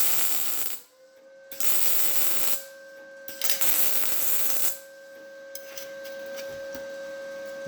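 MIG welding 18 gauge sheet metal with an Arccaptain MIG200 welder, bursts of loud crackling hiss in several bead runs separated by short quiet gaps, with a steady electrical hum underneath.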